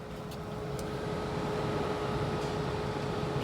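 An electric car's battery cooling system runs with a steady, fairly quiet whirring hum and a constant tonal drone, unchanging from start to finish, with no talking.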